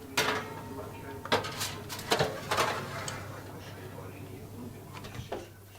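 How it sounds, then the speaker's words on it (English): Kitchen foil crinkles over a marinated whole rabbit in a roasting dish before it slides into a home oven: a few clattering dish knocks and rustles, close by, with a low background hum. "Just going to cover it with foil to keep the moisture in. And we're sticking it in the oven."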